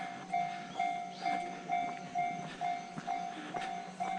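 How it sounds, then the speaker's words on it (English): Railway crossing in Kyoto with its warning bell clanging in a steady repeating rhythm, each strike ringing briefly, loud and near over quiet street background, no talking. "And here's a railway crossing."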